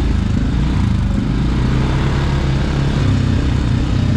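A CF Moto ATV stuck in mud runs its engine in a loud, steady drone with a low rumbling throb, close by and continuous throughout.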